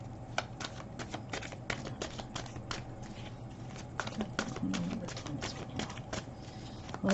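Tarot cards riffle and flick in a rapid, uneven patter of crisp snaps, close by, going on steadily for several seconds.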